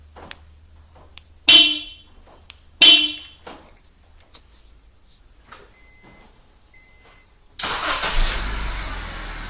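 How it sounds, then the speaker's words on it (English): A 2006-2011 Honda Civic engine starts by remote starter after two short horn chirps and a few clicks, turning over and settling into a steady idle close by. "Inside of our Civic, we're going to activate the remote starter."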